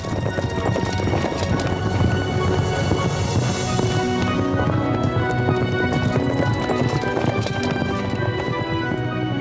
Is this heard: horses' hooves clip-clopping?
yes